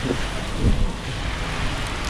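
Steady, dense rain hisses across the whole clip, with one brief low thump near the start.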